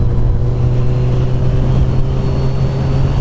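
A motorcycle engine while riding, a loud steady drone with a low hum and wind rush throughout.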